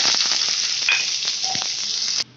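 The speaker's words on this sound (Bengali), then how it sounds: "তো চলুন আগে ভেজে নিয়ে এটা পেস্ট করে নেবো" Chopped onion, ginger, garlic, tomato and green chilli frying in hot oil, a steady close sizzle with faint stirring scrapes that cuts off near the end.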